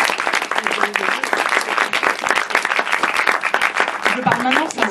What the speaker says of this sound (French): Donc applaudissements.